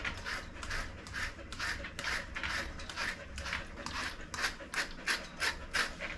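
A brush strokes through a chunky dog's coat during grooming, a steady series of soft rhythmic scratchy swipes repeating about twice a second, close and fairly quiet.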